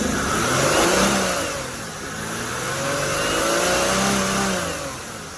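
A car engine, running on a workshop bench during a crankshaft and camshaft sensor lab, revs up and eases back in two broad swells over a steady mechanical hum, close and alone with no talk.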